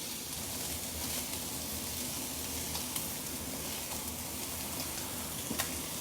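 Pork chops browning in a pan give a steady, faint sizzle with small crackles and pops all the way through.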